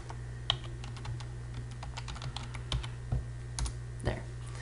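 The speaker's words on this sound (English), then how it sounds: "I'm going to have to type it in backwards" Computer keyboard typing: a steady run of quick, light key clicks in uneven bursts, close and clear over a low hum, with no talking.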